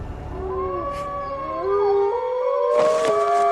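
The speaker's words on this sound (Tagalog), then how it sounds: "pagsapit ng hating gabi ay alulungan ng mga aso ang gumising sa amin" Several dogs howl at midnight in long, wavering, overlapping tones, one voice sliding into another, with a brief burst of noise near the end; they are fairly loud and sound moderately close.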